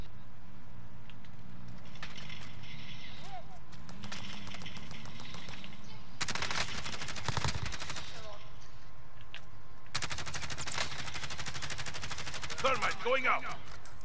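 Call of Duty: Modern Warfare gunfire in a match, with bursts of shots at middling distance between quieter stretches of game ambience, plus voices and sound effects.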